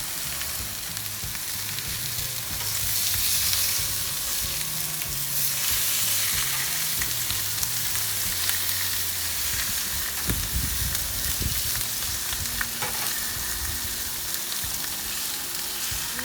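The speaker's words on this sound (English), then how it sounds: "I've sliced up some peppers and some onions, and I'm going to put that on a cooler part of my griddle to allow that to cook alongside." Sliced peppers and onions crackle on the cooler side of a flat-top griddle beside steak for Philly cheesesteaks, a continuous even sizzle with faint pops, heard up close and alone.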